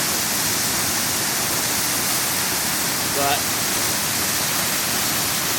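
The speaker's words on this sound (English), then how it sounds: "3 separate little waterfalls and a 4th tiny one right behind them there." Sol Duck Falls, three small waterfalls and a fourth tiny one, make a steady, loud broadband rush of falling water, with a brief spoken word barely surfacing through the noise.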